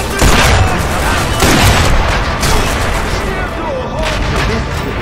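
Grenade blast in the Sniper Elite V2 Remastered Tiergarten Flak Tower mission, a dense loud boom rolling into sustained gunfire and rumble with no clear gaps, continuous for the whole stretch.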